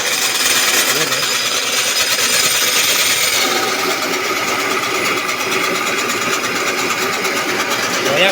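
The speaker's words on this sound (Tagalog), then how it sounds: "Dito ako nagigiling ng paminta." An electric grinder running on a 6 kW off-grid solar setup while grinding pepper: a loud, continuous motor whine with a rough grinding rattle, steady throughout, with faint voices in the background.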